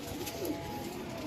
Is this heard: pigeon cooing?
yes